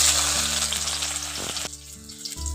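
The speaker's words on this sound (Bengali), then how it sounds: "এখন পেঁয়াজটা দিয়ে আমি ভালো করে নাড়াচাড়া করে পেঁয়াজটাকে ভেজে নিচ্ছি।" Chopped onion fries in hot oil in a pan, making a loud, close, continuous sizzle, with brief stirring knocks partway through and a low steady hum underneath.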